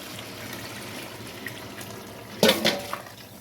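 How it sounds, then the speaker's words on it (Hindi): Boiled chana dal water poured into keema for a keema pulao, a brief burst of splashing liquid near the end over a quiet kitchen background. "अब हम इसमें दाल का पानी शामिल कर देंगे।"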